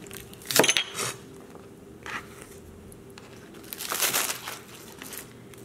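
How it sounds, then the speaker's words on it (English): Knife slicing green onion on a cutting board, a few scattered crisp, crunchy cuts at close range with quiet gaps between them, no talk. "cut my green onion."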